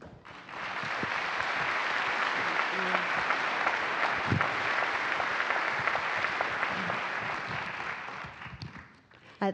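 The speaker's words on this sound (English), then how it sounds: "Let's give them another round of applause." A crowd at NASA's Commercial Crew Program crew assignment announcement claps steadily for several seconds, a full round of applause that swells and then fades out.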